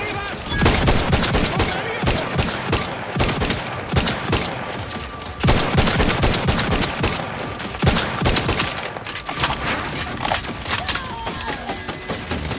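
Sustained automatic gunfire in The Outer Worlds 2, loud dense bursts of rapid shots rolling almost continuously, with brief pauses between volleys.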